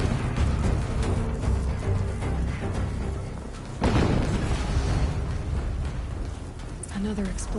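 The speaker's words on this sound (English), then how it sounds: "Another explosion." An explosion in the video game Horizon Zero Dawn Remastered bursts out as a sudden deep boom partway through, over continuous game sounds and a talking player.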